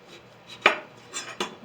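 Kitchen knife chopping through pumpkin: two crisp thuds of the blade hitting the board about three-quarters of a second apart, with lighter scraping before and between, close and without talk.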